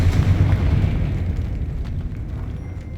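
Fiery Confringo spell explosion in the video game Hogwarts Legacy, a loud rumbling blast with heavy low boom that slowly fades and crackles over a few seconds.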